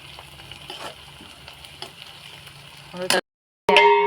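Onions and tomato sautéing in a pan for a village-style dried fish curry, a steady soft sizzle with stirring clinks, ending in a louder burst of frying after a brief cut.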